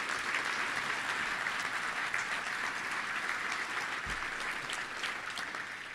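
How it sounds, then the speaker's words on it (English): An audience at a Little Rock Touchdown Club luncheon applauds sponsors, a steady, dense wash of clapping from many hands that continues evenly throughout and tapers slightly at the end. "Let's give all those sponsors a big round of applause."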